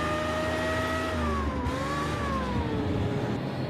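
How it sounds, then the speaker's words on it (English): A tank engine running on avgas fuel mix rumbles steadily from its exhaust, with a loud, continuous droning note that slowly shifts in pitch throughout, no voices present. "you can hear the difference in exhaust notes between the 2 types of fuel."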